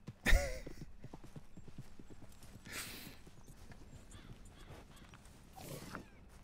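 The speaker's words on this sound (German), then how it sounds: "Ach so, das ist ein gestohlenes Pferd gerade" Hooves of a stolen horse clip-clopping in Red Dead Redemption 2, a faint steady walking rhythm under quiet game ambience, with a sharp knock near the start and brief breathy bursts later.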